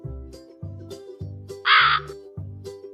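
A crow gives five harsh caws in an even rhythm, clear and close, with a short higher bird call overlapping near the middle.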